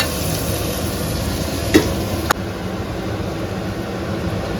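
Food fries in a pan for kaju paneer butter masala, a steady loud sizzle with a couple of brief clicks or scrapes partway through.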